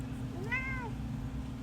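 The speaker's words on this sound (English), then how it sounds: "A cat." A cat meows once, a clear rising-falling call heard close over a steady low hum of background noise.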